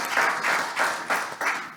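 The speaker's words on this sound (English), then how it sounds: "Extended applause." Rhythmic clapping from an audience at a women's football summit in Athens, a few claps in quick succession with short swells, close and moderately loud.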